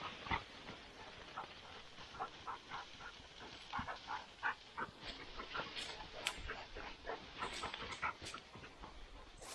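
A hunting dog pants rapidly and steadily close by after retrieving a quail from a reed bed, a quiet rhythmic huffing with faint brushing and outdoor ambience.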